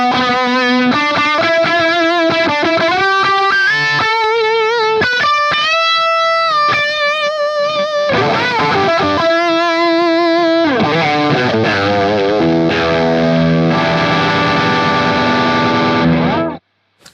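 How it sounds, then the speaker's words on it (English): Electric guitar played through a Nux Cerberus pedal with the drive stacked into the distortion, heavily saturated single notes and bends giving way to sustained, wavering chords, loud and continuous until an abrupt stop. "and then we run it into the distortion."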